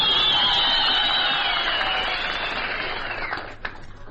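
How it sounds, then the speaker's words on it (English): Applause from an audience of wartime servicemen, with clapping and a high whistle over a broad roar that holds loud for a few seconds and then tapers off, ending with a sharp thud. "this is the way our boys, when the occasion arises, do their clapping"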